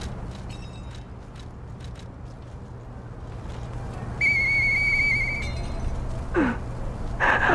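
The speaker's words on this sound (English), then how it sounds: "I know that whistle." A sustained whistled tone sounds in the video game Lies of P, holding steady for about a second before two short rising whistle chirps follow, all over a low hum of game ambience.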